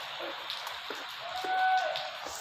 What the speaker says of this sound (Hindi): छिमक छिमक बारिश पड़ रही है, काफ़ी बारिश पड़ रही है